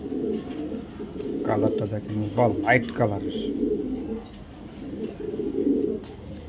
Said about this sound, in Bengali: মানে অরিজিনাল রেসার কবুতর।